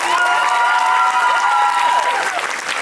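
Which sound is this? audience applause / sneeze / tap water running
audience applause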